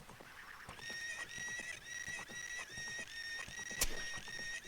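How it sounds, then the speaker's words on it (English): Faint whinnying horse neigh sounding as an arrow is shot in a Banjo-Kazooie and Ocarina of Time randomizer video game, a quiet high whinny over soft rhythmic clip-clop game sounds, no talk. "Shooting the arrow is the horse neigh."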